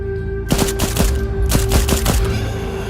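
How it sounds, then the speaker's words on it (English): Gunfire in the VR game Into The Radius 2: a burst of sharp, rapid shots in two quick clusters, loud and close, over a steady low ambient drone. "Let's talk about how awesome that gunfire sounds."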